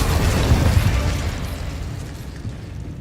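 The Incendio fire spell cast in Hogwarts Legacy, a deep whooshing burst of flame that swells loudly at first and then trails off into a fading rumble.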